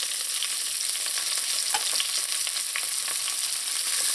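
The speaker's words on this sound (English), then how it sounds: "Just let this saute in here a little before adding in the garlic" Onions, scallion and pimento sautéing in a pan of oil with browned seeds for curry shrimp: a continuous bright sizzle with scattered crackles and pops, steady and close, no voices.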